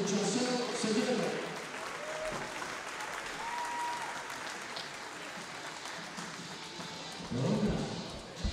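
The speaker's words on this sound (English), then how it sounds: "Let's give a nice round of applause." A basketball crowd applauds during pregame introductions at a men's college Final Four game, a broad, fairly distant wash of clapping with cheers and voices rising at the start and again near the end.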